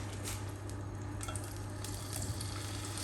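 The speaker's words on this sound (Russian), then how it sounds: "И в этой же сковородке мы с вами обжарим наше филе." Fillet sizzles steadily in a frying pan just used to brown mushrooms, a constant crackling hiss that holds throughout with no voices.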